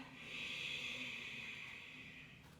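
A single long, steady breath flows out through the nose or mouth during a yoga standing pose, soft and close, rising then slowly fading over a couple of seconds with no talk.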